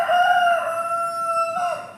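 Rooster crowing once in a long, drawn-out cock-a-doodle-doo lasting about two seconds, clear and fairly close with no talking.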